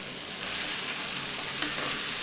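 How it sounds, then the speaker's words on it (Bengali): Banana flower curry is stirred in an open pan, giving a steady broadband sizzle with faint scraping, loud and close, and one brief clink near the end. "নেড়ে নিচ্ছি ঢাকাটা খুলে নিলাম"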